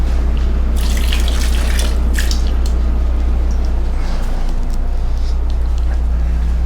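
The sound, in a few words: cold tap water running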